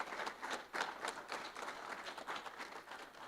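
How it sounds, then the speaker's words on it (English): An audience at a media awards ceremony applauds, a dense patter of many hands clapping at once. It sounds faint and somewhat distant and lasts a few seconds, with no speech over it. "you should give yourself a round of applause"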